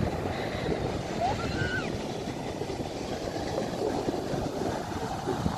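Sea waves rolling onto a clear-water beach in Portugal, a steady broad wash of surf with some wind, moderately quiet, with faint voices in the background.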